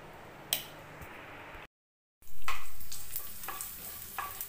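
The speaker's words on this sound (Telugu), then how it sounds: "ఇప్పుడు దీన్ని మనం పోపు పెట్టుకుందాము" Dried red chillies, crushed garlic, chana dal, fenugreek and cumin tempering in hot oil, with a sharp sizzle that bursts up after a brief silence and slowly fades, dotted with small crackles and pops.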